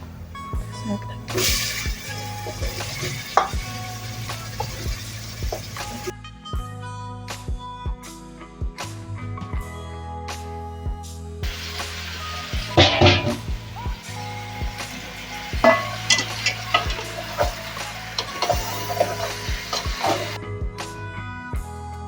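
Beef innards frying in a pan for a Manipur-style curry, with steady sizzling and intermittent stirring scrapes, a louder burst of sizzle and clatter midway, and a person talking over the cooking.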